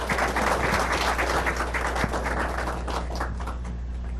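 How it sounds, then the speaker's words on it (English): Book festival audience applauding a panel of artists, a dense, steady wash of clapping at close range, holding evenly throughout with one sharper clap near the middle. "If you would just give them some applause before we take questions."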